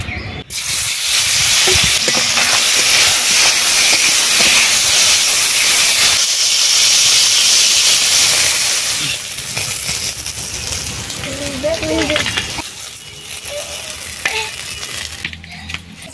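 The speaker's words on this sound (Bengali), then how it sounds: "কড়াইতে তেল দিয়ে দিচ্ছি" Mustard oil in a wok over a fire fed with fallen tree leaves gives a loud, dense hiss that fades and turns into crackling sizzle with faint clinks near the end.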